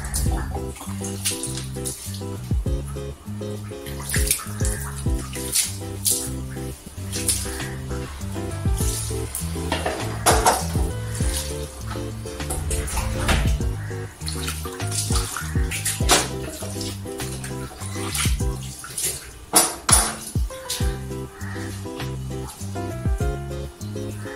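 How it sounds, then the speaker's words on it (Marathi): Water splashes and pours continuously onto kitchen floor tiles, with irregular slaps and gushes throughout, close by and fairly loud. "आता इथं वर लादी आहे, त्या लादीवर पाणी मारून घ्यायचं."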